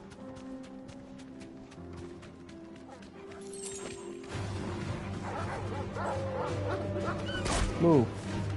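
A dog in the Final Fantasy 16 video game gives a few short, faint barks and yips, then whimpers near the end, under game music and ambient sound while a person talks.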